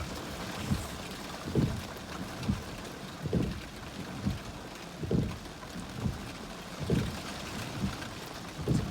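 Steady rain from a tropical storm squall band patters over a broad hiss, with soft low thumps recurring about once a second, like drops hitting a car roof up close, in St. Petersburg, Florida.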